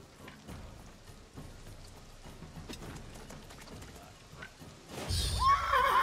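Near the end a horse whinnies loudly in the video game Wartales, breaking in after several seconds of quiet ambience with faint patter and clopping beneath.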